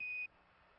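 Apollo 11 lunar module 1201 program alarm during the lunar descent: a single steady, piercing electronic tone sounds for about a quarter second and cuts off, leaving faint radio-link hiss.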